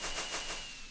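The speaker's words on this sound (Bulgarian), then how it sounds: "Зарята, хора, зарята. Гърмим заря" Fireworks launched in a Minecraft SkyWars match burst out as a quick run of crackling pops in under a second, fairly loud and close.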